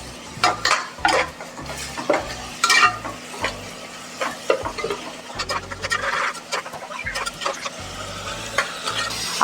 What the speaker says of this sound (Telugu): ఆ తరువాత పచ్చిమిర్చి, కరివేపాకు వేసుకొని వేయించుకోవాలి